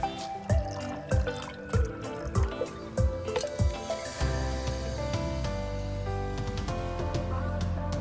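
Water poured from a container into a metal canteen cup sitting on a lit camp stove, with several short splashy drips and pours at first, then a steady continuous pour filling the cup, close by.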